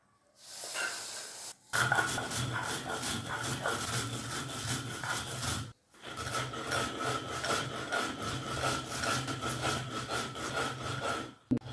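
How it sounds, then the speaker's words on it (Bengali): Dry-fried rice being ground on a stone shil-pata slab: a steady, close, rasping scrape of stone on stone in repeated strokes, broken by two short pauses, with no talk. "শিলপাটায় গুঁড়ি করে নেব।"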